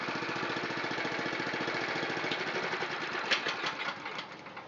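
A Honda GX270 engine on a NorthStar water pump idles nearby with a rapid, even chugging pulse that softens slightly toward the end.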